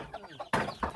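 Chickens, including a large cock, cluck in short, close bursts with a louder cluster in the second half, against a faint rural background.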